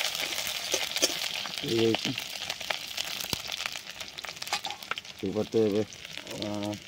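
Tomato, onion and cumin frying in a pan with a steady sizzle and stirring scrapes, while a voice speaks in short bursts over it.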